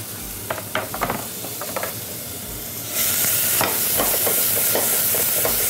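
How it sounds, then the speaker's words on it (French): Onions sizzle in sunflower oil while a utensil scrapes and taps in the pan, then the frying hiss swells louder and steadier partway through, with the stirring continuing close by. "On va juste faire revenir nos oignons comme ça dans l'huile de tournesol."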